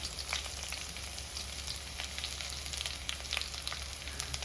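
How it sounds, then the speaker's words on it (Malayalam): Dried red chillies and small shallots fry in hot oil for a jackfruit thoran, giving a steady close crackling sizzle with scattered sharp pops throughout. "നമുക്ക് അപ്പോഴത്തേക്ക് വറ്റൽ മുളക് ചേർത്ത് കൊടുക്കാം."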